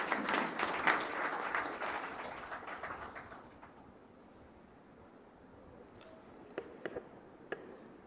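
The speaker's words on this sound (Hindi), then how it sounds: "जोरदार तालियां बजा के आप स्वागत करें" Applause from an audience welcoming a speaker at a political rally, loudest at the start and fading out over a few seconds, followed by near quiet with a few faint, sharp ticks.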